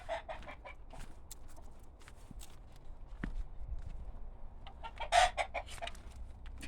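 Chickens in a backyard DIY coop being turned into a sanctuary, with repeated nearby clucks and squawks, a rooster-like crow rising loudly near the end, and soft footsteps on the ground between calls.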